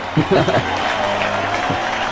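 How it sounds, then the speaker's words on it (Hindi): An audience welcomes a guest with applause, a dense, continuous clatter of clapping that runs throughout while a voice speaks over it. "जोरदार तालियों से उनका स्वागत कीजिए"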